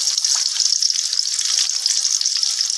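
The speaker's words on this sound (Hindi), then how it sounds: "अब मैंने इसमें शामिल कर दिया है प्याज। अब इसको अच्छी तरह से ब्राउन करूँगी" Chopped onions sizzle and fry steadily in hot ghee in a pan, a dense, bright crackle that stays close and continuous throughout, with no talking.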